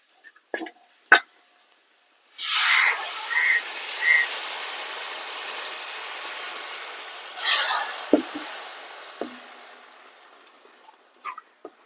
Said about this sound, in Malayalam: അരപ്പ് മൂത്ത് വന്നിട്ടുണ്ട്, നമുക്ക് വെള്ളം ഒഴിച്ചു കൊടുക്കാം.